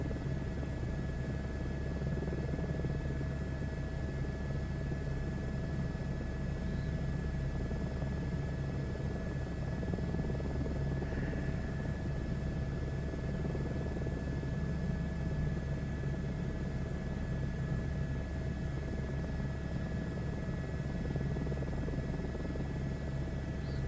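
Helicopter flying in a VR game near an older World War II style airfield, its steady rotor and engine drone continuous and loud throughout with no talk.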